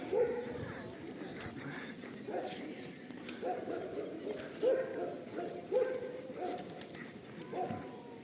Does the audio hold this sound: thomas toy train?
no